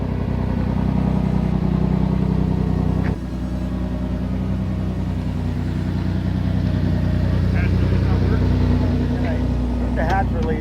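The engine of a Pontiac Fiero GT runs steadily at idle with a continuous low rumble, heard up close with faint clicks and handling noises over it.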